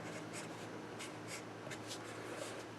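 Chalk or marker strokes on a classroom board during a logarithms lecture, a steady scratchy run of short writing strokes, fairly quiet, with no talking.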